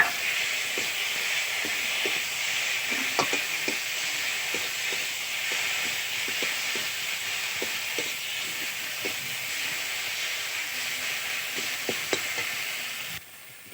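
Spice paste and onion fry in a pan for a bhola fish curry, a steady loud hiss of sizzling with scattered small pops and ticks, continuous and close until a sudden drop at the end.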